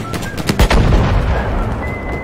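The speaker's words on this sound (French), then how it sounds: "Je sais pas ce que j'ai défoncé, mais j'ai tiré au canon." Cannon fire in the World War II shooter Battlefield V: a sharp, loud blast near the start followed by a rumbling battlefield din of distant gunfire and explosions, with no talk.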